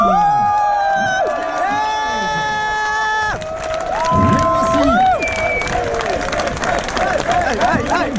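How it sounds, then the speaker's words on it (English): A crowd at the Spa 24 Hours motor race in Belgium cheers and applauds the winning BMW team, loud and sustained, mixed with shouts, whistles and a strong melodic horn-like tone over the celebration. "L'équipe Walkenhorst Motorsport que l'on peut applaudir, Tom Blancpain, Christian Krognas, Philippe"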